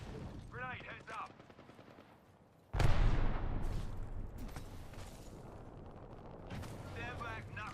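Video game combat with bursts of gunfire and a heavy grenade-like explosion that sets off sustained crackling blasts, with game voices heard before and after.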